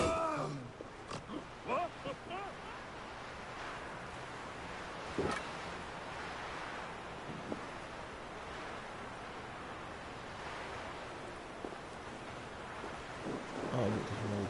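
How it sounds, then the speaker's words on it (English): Rain and a thunderstorm in a PS4 video game, a faint steady wash of rainfall with low rumbles and occasional cracks, quiet beneath the game's other sounds. "Storm."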